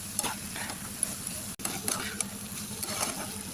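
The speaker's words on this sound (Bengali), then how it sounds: "এবার এর মধ্যে এই ভেজে রাখা চিকেনগুলো দিয়ে দেবো, দিয়ে ভালো করে মিশিয়ে নেব" Fried chicken pieces for chili chicken tossed into a pan and stirred, a quiet sizzle with scraping spatula strokes and light clatter, close but soft, no voices.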